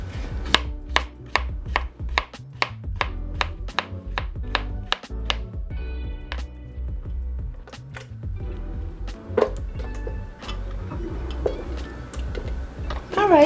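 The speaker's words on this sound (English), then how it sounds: "then we're just going to chop this into pieces." A knife chops produce into pieces on a cutting board in a quick run of crisp, evenly spaced thuds, then slower, irregular cuts and shuffling near the end, with no talk.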